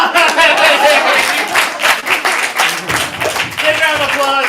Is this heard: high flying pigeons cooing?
no